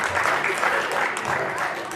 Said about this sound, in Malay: Tergamak kau tepuk tangan, sabarlah.